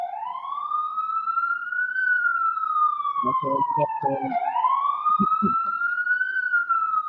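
An emergency vehicle siren wails in long, steady rising and falling sweeps, loud and continuous throughout, with a short spoken word and some vocal sounds briefly cutting in over it.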